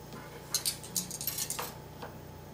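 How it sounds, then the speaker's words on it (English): Stainless or other kitchen bowl and whisk picked up and set down, giving a short run of light metallic clinks and clatters, close and clear, with no talking. "I'm just going to grab another bowl."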